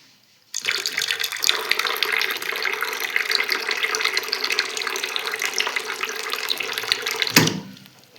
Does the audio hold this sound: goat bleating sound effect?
no